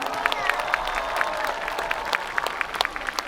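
Outdoor crowd applause at a festival closing concert in Asan, with dense clapping and scattered whistles or cheers, a steady wash of hands from a large audience.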